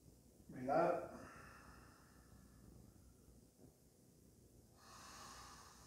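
A slow yoga exhale during a twisting pose, one soft breath rising and fading near the start, followed by quiet room tone and a faint hiss later.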